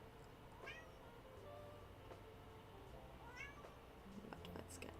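A house cat meows twice, faint and a little distant, each a short rising cry over a low steady background hum.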